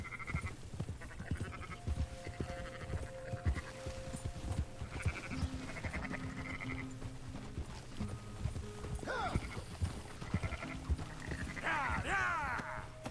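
In the Red Dead video game, horse hooves clip-clop steadily while sheep bleat in scattered bursts nearby, with a horse whinny rising near the end over a continuous outdoor game ambience.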